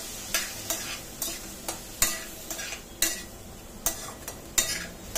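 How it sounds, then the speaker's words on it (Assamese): Chickpeas frying with spices in a pan, stirred with a utensil in regular scraping strokes about once every half second, each over a soft continuous sizzle, close and clear with no talking. "এয়া মই গোটেইকেইটা বুটে ভালদৰে লৰাই দিছোঁ।"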